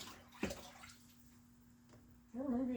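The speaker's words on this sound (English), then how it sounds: "dunk it in water real quick." A brief splash and hiss as a hot metal part is dunked into water during hot dip bluing, followed by quiet bubbling and gurgling.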